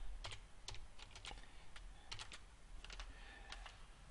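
Keys tapped on a computer keyboard while entering a company name in admin software, coming in quick bursts of clicks with short pauses, moderately close and quiet, with no voices.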